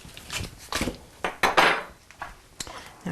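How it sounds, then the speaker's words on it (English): Polenta and butter stirred in a pot with a spoon: a handful of uneven scraping and knocking strokes against the pot, close and fairly loud, with short pauses between them. "So I'm just stirring my polenta with the butter."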